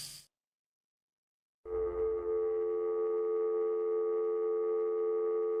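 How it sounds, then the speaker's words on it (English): Steady telephone dial tone in the video game Kentucky Route Zero, a continuous two-pitch hum that begins abruptly after a short silence and holds loud and unbroken to the end. "That sounds like a telephone."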